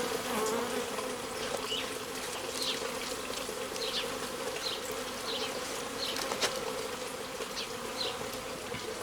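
A small secondary honeybee swarm buzzes steadily at a hive, a dense continuous hum with individual bees flying past close by, with no voices.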